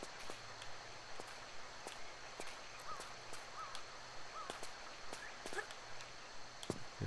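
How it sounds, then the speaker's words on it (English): Bird calls in the PC game Tomb Raider III: The Lost Artifact, brief faint chirps recurring a few times over low ambient hum, with sharp clicking taps scattered throughout. "I keep hearing a bird somewhere,"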